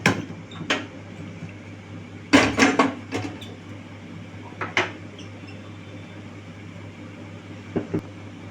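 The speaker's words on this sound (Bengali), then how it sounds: "তা আমি প্রথমে কড়াটা বসিয়ে দেবো গ্যাসের মধ্যে" A metal kadai pan is set down on a gas stove, giving a few close clanks and scrapes of metal on metal over a steady low hum, with no talking.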